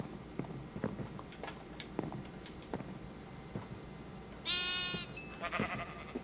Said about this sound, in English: Nice, a little brown sheep.